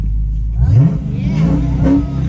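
A Dodge Hellcat engine revs up close, its pitch rising in sweeps over a deep rumbling idle, climbing twice and then settling into a steady growl.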